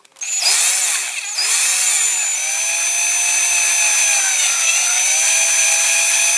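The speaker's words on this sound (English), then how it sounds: "I need to tighten that a bit in the drill." A power drill spins up and bores into a Dinky Toys RAF Pressure Refueller No.642 die-cast model, a loud steady whine with a brief stop and restart near the start, then a continuous grinding drone.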